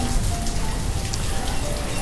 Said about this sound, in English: Raining, I hate rain.